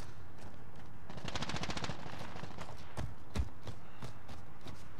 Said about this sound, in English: someone's going off with their sniper